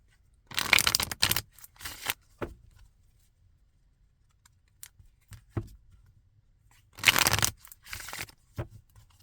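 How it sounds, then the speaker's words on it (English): Tarot cards being shuffled in two separate bursts of riffling and flicking, with a few soft taps and shuffles in between; close and fairly quiet with no talking. "let's go ahead and shuffle."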